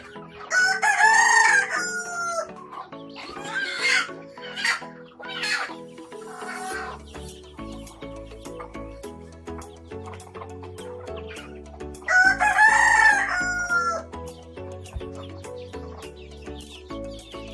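A rooster crows loudly twice, well apart, while native hens cluck and murmur nearby between the crows on a local chicken farm in Assam.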